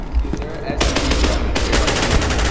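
Rapid automatic gunfire in the video game SCP: Secret Laboratory, a sustained close burst of shots with a brief pause before a second stream, loud over game ambience.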